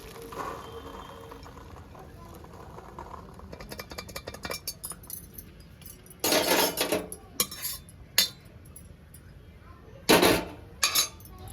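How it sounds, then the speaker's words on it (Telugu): Cooked alasanda (black-eyed pea) charu is tipped from a pressure cooker into another pot in a home kitchen, with scraping metal clinks and sharp pot knocks that grow louder toward the end. "ఈ పక్కకు చారు వంపేసుకుందామండి."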